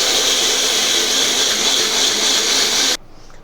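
A mixer grinder whirs loudly and steadily, grinding green chili, ginger pieces and peanuts into a gravy paste, then cuts off abruptly into near silence.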